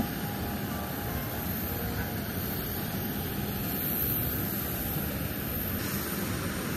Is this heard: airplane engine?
yes